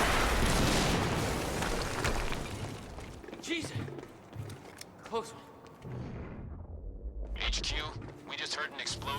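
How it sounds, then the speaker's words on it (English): Explosion in the Quantum Break video game near a harvesting perimeter, a loud broadband boom at the start with crackling debris and gunfire-like bursts after, mixed under game voices and noise. "We just heard an explosion near the harvesting perimeter."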